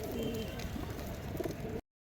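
A male pigeon coos in low, repeated throaty rolls, close and fairly loud, in a home pigeon loft.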